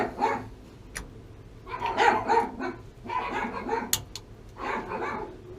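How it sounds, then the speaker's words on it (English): Several dogs barking next door, repeated bursts of yapping and bow-wows at close to middle distance with short gaps between them. "A lot of dogs next door."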